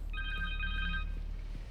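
A cell phone rings in the Spider-Man 2 video game on PS5, a steady electronic ringtone with bright sustained tones repeating for about a second, then fading, over low game ambience.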